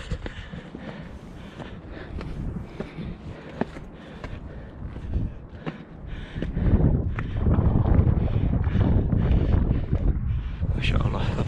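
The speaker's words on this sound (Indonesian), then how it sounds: "hari ini angin semilir dan cukup sejuk sekali di hari ini" Gentle breeze buffets the microphone on the rocky trail up Jabal Nur mountain near Mecca, a steady rushing that swells louder in the second half, with scattered footsteps and faint voices mixed in.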